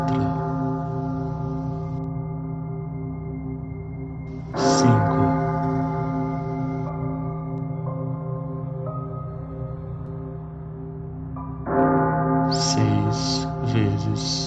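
A large bronze church bell tolls slowly and heavily, each deep stroke ringing out with a long, humming decay, the strikes spaced several seconds apart and fairly close.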